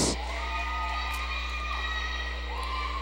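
A big crowd at a girls' high school volleyball match between St. Francis Prep and The Mary Louis Academy cheers and whoops steadily in a gym over a constant low hum.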